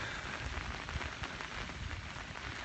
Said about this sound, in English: Hope y'all can hear me over the rain.